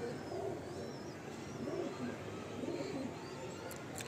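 A Mundi Sada pigeon kept at home coos softly and repeatedly in low, rolling murmurs over a faint steady room background, with no speech.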